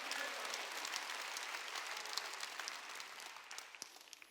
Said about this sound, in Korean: 박수. 다 용서한다는 거예요.